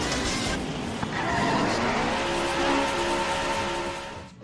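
Race cars from the Daytona USA arcade video game roar along with engines revving and tires skidding, a steady loud drone of motor noise with rising pitch sweeps, cutting off abruptly near the end.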